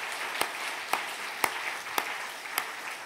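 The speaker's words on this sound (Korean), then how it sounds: "박수로 영광 돌리겠습니다." A church congregation applauds in a large worship hall during an Easter Sunday service, a soft steady patter of many hands with a few sharper claps standing out at a distance.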